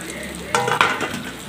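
Fried potatoes and soybean chunks drop into sizzling poppy-seed spice masala in a pan for aloo posto, two close, loud bursts of frying and stirring over a steady background sizzle.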